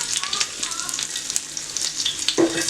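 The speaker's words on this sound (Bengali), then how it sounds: "তেল মনে হয় গরম হয়েছে, পেঁয়াজ দিয়ে দেই" Onions sizzle and crackle steadily in hot oil in a pan, close and continuous, with a faint stirring scrape near the end.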